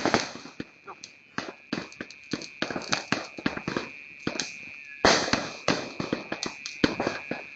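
Firecrackers going off outdoors in a rapid, irregular string of sharp, loud bangs with brief pauses, some bursts clustering densely, and faint voices in between.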